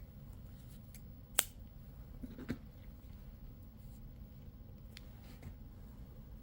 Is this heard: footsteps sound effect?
no